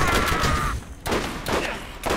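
Shotgun blasts in the video game Borderlands, a loud burst of gunfire followed by two more sharp booming shots spaced about half a second apart, with a brief tone fading early.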